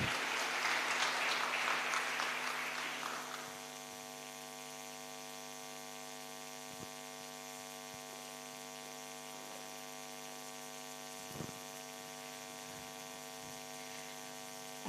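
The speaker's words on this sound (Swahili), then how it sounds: "Mpigieni makofi tafadhali." Audience applause at a public people's dialogue on privatisation and the budget in Meru County, a burst of clapping for about three seconds that fades into a steady electrical hum.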